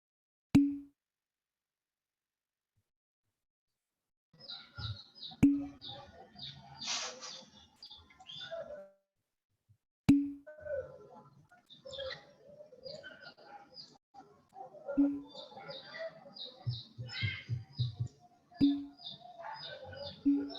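A chick peeps in short, high bursts spread across a quiet room, faint and intermittent, with soft knocks and clicks between the calls.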